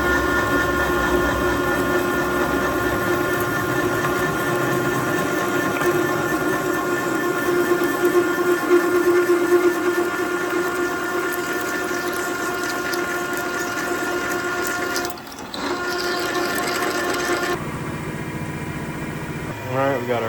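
A drill rig boring 11/16-inch bolt holes through a steel cross member for a tri-axle trailer, a steady loud mechanical whine and grind running continuously, briefly dipping near the end.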